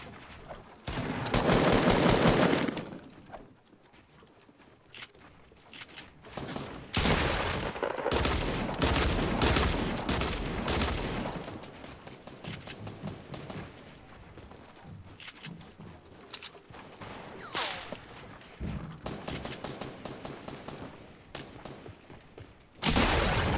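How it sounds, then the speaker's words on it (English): Dual-wielded pistols firing in a video game, rapid bursts of gunshots in clusters with quieter gaps between, continuous and fairly loud throughout with no talking over them. "Dual-wield pistols."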